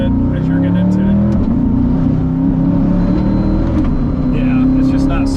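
A Chevrolet Corvette C8 engine revs loudly and steadily with a slight misfire, its note breaking up and stumbling through the pull, close and continuous with speech audible over it.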